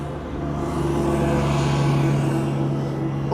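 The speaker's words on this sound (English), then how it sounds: "Now, the Embraer 190 from Air France has become visible" An Air France Embraer 190 on arrival at Amsterdam Schiphol Airport, a steady loud jet roar that swells slightly and then holds through, with no voices.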